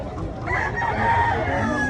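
A rooster crows loudly at a gamefowl expo in Consolacion, Cebu, a long, strained, quavering call held for about two seconds above a dense murmur of crowd noise.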